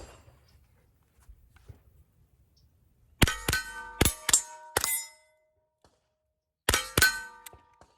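Steel shooting targets at a Steel Challenge competition ring out with sharp metallic clangs, a fast burst of about five hits, then two more a moment later, against near silence.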